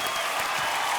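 Studio audience of a television quiz show applauding, a dense, steady wash of clapping filling the brief moment.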